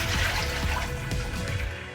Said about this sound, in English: I'm going to give this a good rinse.